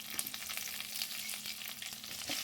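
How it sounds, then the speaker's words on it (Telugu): Curry leaves, green chillies and garlic crackle and sizzle in hot oil in a pan, a dense continuous frying hiss close up with brief spatters, no voices. "ఇవన్నీ కొద్దిసేపు బాగా వేయించుకోవాలి."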